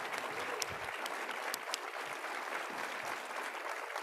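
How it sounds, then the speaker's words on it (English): An audience at an education research association's annual meeting opening plenary claps for a panel, a dense, sustained applause at moderate distance without any speech. "Can we give this phenomenal panel a round of applause?"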